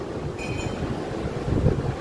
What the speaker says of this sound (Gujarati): દરિયાનો અવાજ સાંભળી શકતા છો કારણ કે પવન પણ જોરદાર છે અને દરિયામાં મોજા છે બહુ જોરદાર